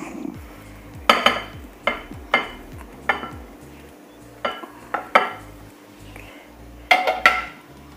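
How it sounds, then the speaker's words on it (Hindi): Cooked semolina scooped from a pan into a bowl: a series of sharp metallic clinks and scrapes of a spoon against cookware, spaced irregularly, close and moderately loud over faint background hum. "सूजी को हम इस बाउल में निकाल लेंगे।"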